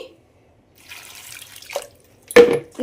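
Fresh cauliflower is rinsed in warm water in a kitchen, heard as short, splashy bursts of pouring and dripping water separated by quiet pauses, ending in a louder splash.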